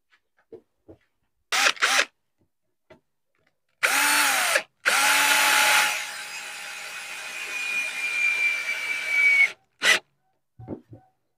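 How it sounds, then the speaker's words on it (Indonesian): A power drill runs in short bursts and longer whirring stretches as screws are driven into a scrap-wood jig, fairly close and clear, with brief knocks and handling sounds between runs and no talk. "nanti kita kasih sekrup guys nih"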